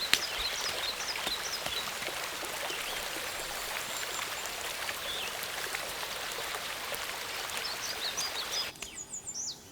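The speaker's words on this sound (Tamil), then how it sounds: "மழை அதிகமா வரும்னு நினைக்கிறேன்" Steady heavy rain hisses continuously at an outdoor village spot, a dense wash of falling water with bird calls chirping faintly through it, easing slightly near the end.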